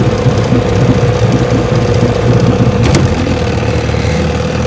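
A restored Evinrude outboard boat motor runs steadily on a bayou test run, a loud, even mechanical drone with a rapid knocking pulse that holds constant throughout, heard close and alone.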